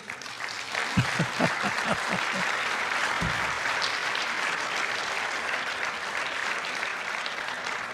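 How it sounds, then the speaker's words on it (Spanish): A congregation applauds couples married 50 years, with a few sharp individual claps at the start before a full, even round of clapping from a large audience that continues steadily. "Un aplauso por el amor de Dios."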